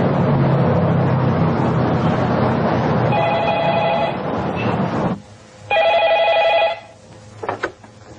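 Two bursts of an old-style telephone bell ringing, set against a noisy indoor scene in an Indonesian film. The first ring sits under loud background din, and the second, clearer ring comes after a brief drop to near quiet.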